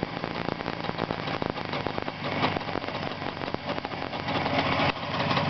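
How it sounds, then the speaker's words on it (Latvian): Jawa 634 motorcycle engine revved on a homemade test stand, a loud, close, rough mechanical roar with a busy, crackling texture that swells slightly toward the end, with no voices. "Apgriezīsim drusku pa lieli."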